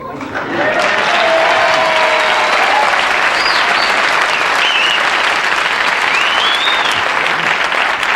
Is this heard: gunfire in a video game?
no